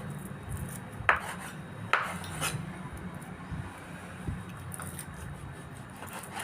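A few sharp knife taps against a cutting board while slicing pork, spaced irregularly, with low kitchen rumble underneath and no talking.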